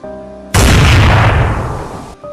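A single loud gunshot in a narrated horror story bursts suddenly and rings out in a long, booming decay, with a low musical drone before and after.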